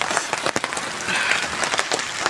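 Rain patters steadily on a surface nearby in a forest, with scattered sharper drops and taps over a soft hiss.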